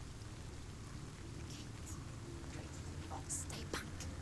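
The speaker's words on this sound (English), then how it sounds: "The rain." Rain falling steadily in the video game Hellblade: Senua's Sacrifice, a soft constant hiss with low rumble beneath and a few brighter drips or splashes near the end.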